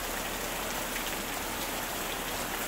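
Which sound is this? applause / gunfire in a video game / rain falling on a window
rain falling on a window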